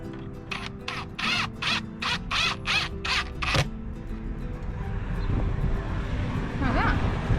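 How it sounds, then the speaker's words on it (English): Cordless drill driving extra long screws through wood on an insect house build, a run of short whirring bursts up front, then scraping, handling noise and quiet background sounds. "we're going to screw through, with these extra long screws"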